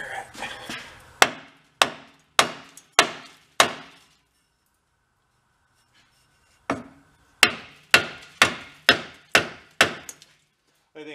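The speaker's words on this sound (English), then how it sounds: "Let me get a hit with a hammer." Hammer striking a rusty Dodge pickup transfer case: a run of five loud sharp metallic blows, a pause of a few seconds, then seven more evenly spaced hits, close and ringing briefly after each.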